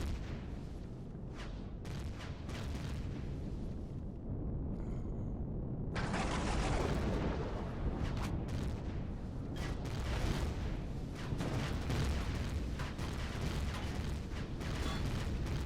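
Repeated heavy turret fire in Empyrion Galactic Survival, an HV tank battling Zirax forces, rendered as dense overlapping booms and blasts that run continuously and loudly throughout with no talk.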